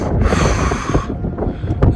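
Strong cold wind buffets the microphone high on a Himalayan mountain trek along the Hampta Pass route, a loud rushing roar that gusts and eases over two seconds.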